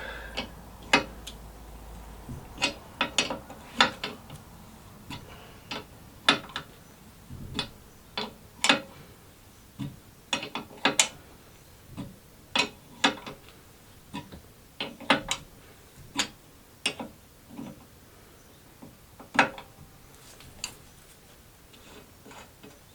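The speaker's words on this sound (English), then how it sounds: "Use 2 nuts, tighten one down and then tighten the other one on top of it, and then you can use the lower one to unwind it" Wrench turning two nuts locked together on a broken exhaust manifold stud, a series of sharp metallic clicks and ratcheting ticks at an irregular pace, close and distinct, no talking.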